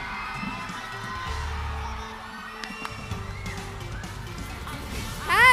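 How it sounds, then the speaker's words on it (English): An audience at the Mutya sa Tagbilaran 2023 pageant talent night cheers and shouts for a candidate. The crowd noise is steady and moderately loud throughout and swells near the end. "I'm feeling so great right now hearing those people cheering me out there"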